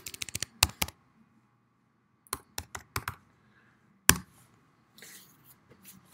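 Typing on a computer keyboard: short bursts of crisp key clicks close to the microphone, separated by quiet pauses, with no talking.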